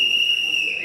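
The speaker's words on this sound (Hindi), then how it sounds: "एक इंसान बजा रहा है सीटी" An audience member at a Bollywood app launch event whistles one long, steady, shrill tone that holds for about a second over faint crowd background.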